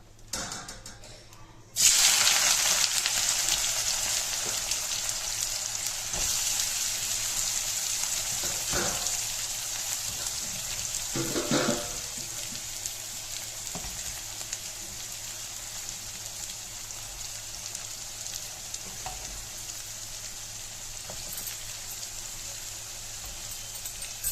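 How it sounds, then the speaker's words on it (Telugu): Onions dropped into hot oil for a curry burst into a loud sizzle that settles into steady frying crackle, with occasional stirring clatter. "ఆయిల్ వేడవుతుంది కదా, దీనిలో ఆనియన్స్ వేసేస్తాను"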